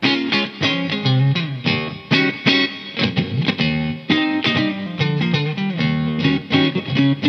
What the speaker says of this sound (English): That's a lot of reverb.